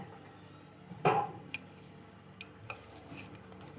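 Small fish being mixed by hand with mustard oil, giving soft wet squelching stirs and a few sharp clicks against a dish, close and fairly quiet, with no talking.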